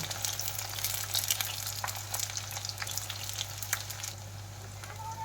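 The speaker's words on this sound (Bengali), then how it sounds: "তেলের মধ্যে তেজপাতা দিয়ে দিলাম এবারে পেঁয়াজ কুচিগুলো দিয়ে দেবো" Bay leaf and chopped onions frying in hot oil, giving a steady close crackling sizzle with faint scattered pops and a low constant hum underneath.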